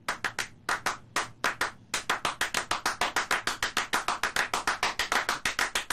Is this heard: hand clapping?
yes